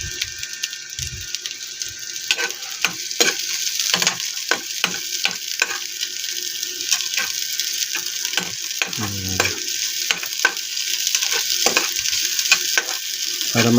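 A bitter gourd omelette fries in a pan on low heat with a steady sizzle, punctuated by repeated scraping and stirring clicks from a utensil.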